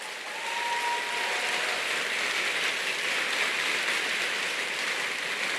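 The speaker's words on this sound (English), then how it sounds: "Let's give them a round of applause, please." Audience applause at an engineering graduates' recognition ceremony, a dense, sustained round of clapping that swells quickly and holds steady at full strength, with no speech over it.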